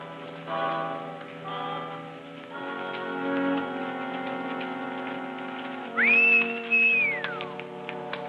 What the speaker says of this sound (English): Stop whistling for that horse.